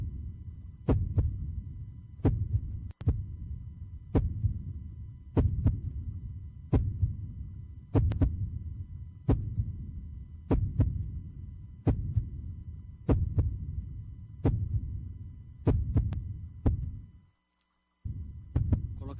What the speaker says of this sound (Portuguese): Esse é o som do coração humano.